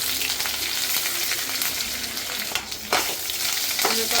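Loud crackling sizzle of curry leaves hitting hot tempering oil, with occasional clinks and scrapes of stirring breaking through the constant hiss.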